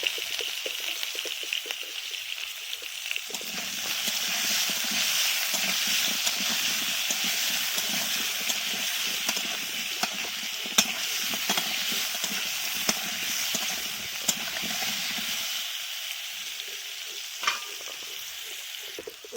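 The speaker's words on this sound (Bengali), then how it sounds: "এইবারে ওই তেলে আবার ওলকপিগুলোকে ভেজে দিচ্ছি" Kohlrabi fries in oil with a close, continuous sizzle and hiss, broken by stirring scrapes and a few sharp pops, steady for the whole stretch.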